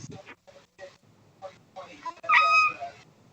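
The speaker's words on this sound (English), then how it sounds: "Sorry, that's my cat." A pet cat meows and yowls close by in short cries, ending in a louder, drawn-out scream, with a person speaking around it.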